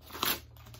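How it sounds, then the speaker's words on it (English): Package packaging being ripped and torn open by hand, a short sharp crinkly tear peaking early and then fading into quieter rustle, close up with no voice. "Rip that out of there."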